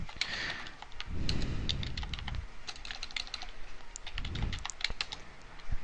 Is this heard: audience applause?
no